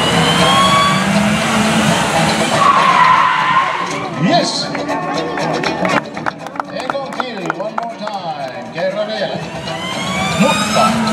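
Two cars performing simultaneous stunts at an extreme motor show in Finland screech and skid with squealing tires and revving engines, loud and close. Crowd and announcer noise sit beneath.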